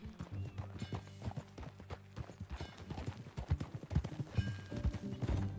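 Horse hooves clip-clopping at a steady riding pace in Red Dead Redemption 2, close and rhythmic, with a short whinny and ambient game sounds mixed in.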